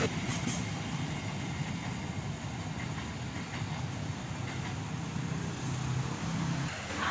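The Jayakarta passenger train at Solo Balapan station at night makes a steady, continuous rumble and rolling rail noise, with faint squeals now and then.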